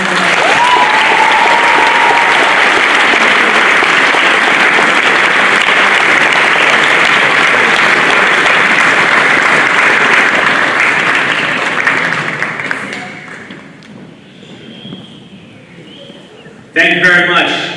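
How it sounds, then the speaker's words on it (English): Sustained applause from an audience at a high school class night ceremony for the class of 2021, loud and steady for about twelve seconds before fading to a quieter room, with a brief burst of voice at the end. "a nice round of applause for all their hard work"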